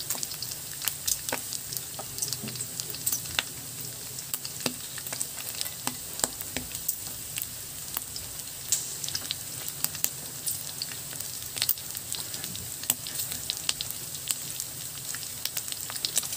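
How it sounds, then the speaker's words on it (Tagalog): Meat sizzling and frying in a pan for Filipino binagoongan, a steady crackling hiss with scattered sharp pops and occasional stirring, heard alone without talk. "At magsisimula na tayong maggisa."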